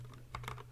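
Short burst of a few quick keystrokes on a computer keyboard while typing code, close and fairly quiet.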